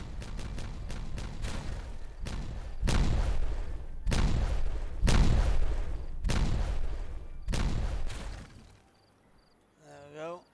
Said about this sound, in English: Now we go detonate.